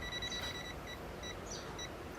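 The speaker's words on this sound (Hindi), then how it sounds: "जितना मैं पास ले जाता हूँ उतनी ज़्यादा इलेक्ट्रिक फील्ड इंटेंसिटी बढ़ती है और ज़्यादा बीप हो रहा है" A digital multimeter gives repeated high-pitched electronic beeps while detecting an electric field. The short tones come in bursts over a steady background hiss, fairly quiet and close, with no talking.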